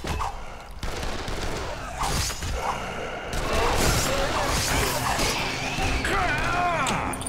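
Gunfire rattles through a Dead Island game scene, bursts of shots and crashing impacts growing denser and louder midway, with people talking over the action.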